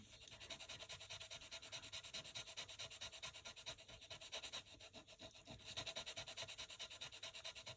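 Close, steady back-and-forth rubbing of a Tombow Mono Sand Eraser (512A) scrubbing ink off paper in a stamping craft session, a continuous gritty scratching with a quick regular rhythm and no talk.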